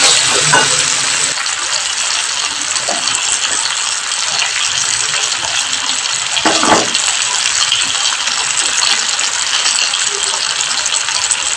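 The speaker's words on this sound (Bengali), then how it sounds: "এবার এই পেস্ট করা মশলার সাথে মিষ্টি কুমড়ার আলুটাকে ভালো করে আমি কষিয়ে নেব" Pumpkin and potato sauté with a spice paste in a pan, making a loud, continuous hiss with scattered rattling clicks and a few knocks from stirring.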